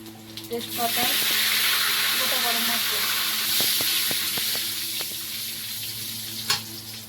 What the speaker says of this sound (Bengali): ভিতরে তেলের মধ্যে জিরে দেবো